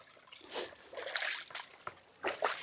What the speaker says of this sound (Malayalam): സൈഡിൽ കൂടെ ഒരു തോടും ഒഴുകുന്നുണ്ട്